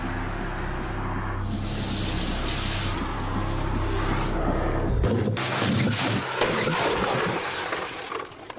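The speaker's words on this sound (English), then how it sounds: "Another remote-controlled three-star NCAP car, 70 miles an hour, into concrete blocks." A remote-controlled three-star NCAP car hits concrete blocks at 70 mph, a heavy, roaring crunch of metal that rings out and dies away into debris and clatter.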